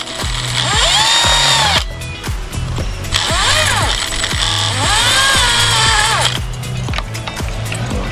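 A power drill makes pre-drill holes in a wooden gate, with repeated loud close bursts of rising and falling motor whine separated by brief pauses.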